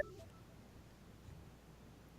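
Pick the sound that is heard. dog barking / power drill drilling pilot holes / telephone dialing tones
telephone dialing tones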